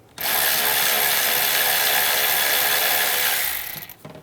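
A ratchet with a 13mm socket backs out a bracket bolt on a 1999-2006 Chevrolet Silverado 1500, one loud, close, continuous run of rapid clicking lasting about three seconds before trailing off.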